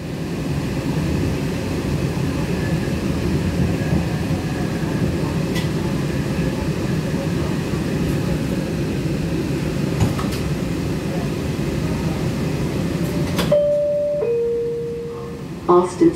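An MBTA Green Line CAF Type 9 light rail train runs outbound on the B Branch with a steady interior rumble and faint squeals and clicks. Near the end it quiets and brief tones ring out as it slows toward Allston Street.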